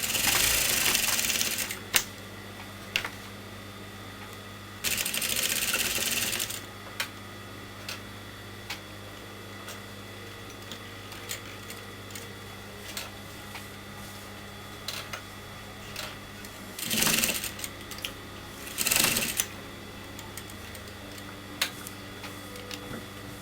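Sewing machine stitches the side seam of a kameez in short bursts, each a couple of seconds of rapid close clatter, separated by long quieter stretches with faint ticking and low hum.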